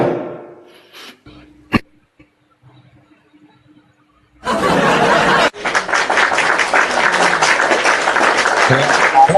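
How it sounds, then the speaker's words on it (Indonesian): A brief cough and faint murmurs give way to a sudden burst of loud audience applause, many hands clapping steadily for several seconds. "Tepuk tangan dong"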